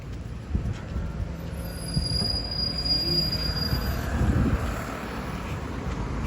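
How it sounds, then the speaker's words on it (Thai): An electric train rolls past in Valencia, Spain, with a low rumble while a high, thin wheel squeal rings out over it, fairly close and sustained. "นี่ก็รถไฟฟ้าจ้ะ"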